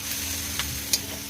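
Green chillies drop into pasta sauce frying in a pan. A soft, steady sizzle carries through the short moment, with two brief crackling pops close by.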